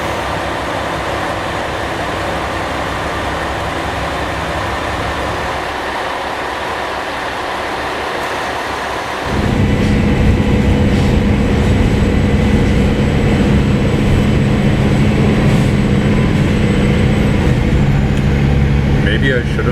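An old diesel local train on a Japanese line toward Obama and Fukui rumbles steadily, its engine note swelling louder and deeper partway through as the railcar works harder, with a faint speaking voice underneath.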